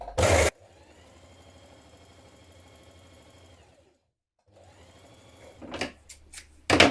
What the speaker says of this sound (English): Ease stitch around the top of your sleeve. Set your machine to a long stitch.